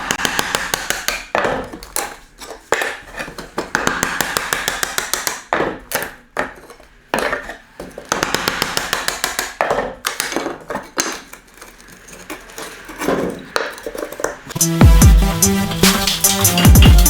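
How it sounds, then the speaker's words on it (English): Hammer blows driving a sharp chisel to split a wooden floorboard near a pipe while taking up floorboards, a series of sharp close knocks and splintering cracks at an irregular pace, ending in a dense burst of rapid hard strikes. "we're going to get our sharp chisel and our hammer and chisel this bit of wood"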